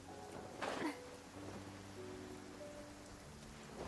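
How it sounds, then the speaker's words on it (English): Rain falling in the video game Genshin Impact, a steady soft patter of drops on surfaces filling the background, with a brief louder burst near the start and faint tonal game music underneath. "Raining again."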